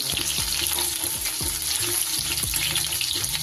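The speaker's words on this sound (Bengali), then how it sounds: "এগুলোকে আমি কত সুন্দরভাবে ভেজে নিচ্ছি" Chicken pieces for chilli chicken deep-frying in oil: a loud, dense bubbling sizzle fills the clip, with regular scraping and tapping from a stirring utensil and no voices.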